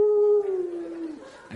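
A comedian vocally imitates a contented dog being stroked, producing one long, sustained howl-like tone that slowly falls in pitch, loud and alone, then trails away.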